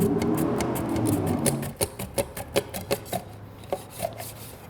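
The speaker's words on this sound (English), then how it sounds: "the quickest way to get nice, thin, consistent slices is using a mandolin like this one" Potatoes are sliced thinly on a mandolin, a close series of quick, rhythmic scraping clacks following a stretch of steadier rough noise.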